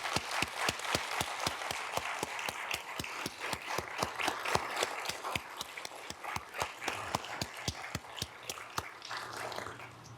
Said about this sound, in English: I'd like to ask both of them to stand so we can give them a round of applause.